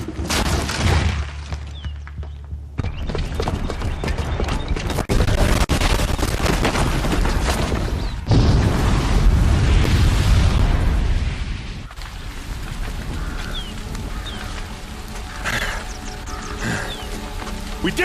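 Rumbling, crackling blasts and debris from a bomb going off in Horizon Zero Dawn, with a heavy low roar swelling midway through and tailing off into a dense game soundscape for the rest of the stretch.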